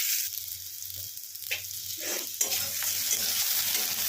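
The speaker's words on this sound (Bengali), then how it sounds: "আলুটা একটু ভেজে নিয়ে ফেরত আসছি।" Potatoes fry in oil with cumin seeds for pumpkin dalna, giving a close steady sizzle with a low hum beneath and occasional stirring scrapes and clinks.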